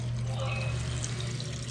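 Water poured into a cooking pot for fish paksiw beside a river, a steady rushing pour running throughout at close range with a low hum underneath.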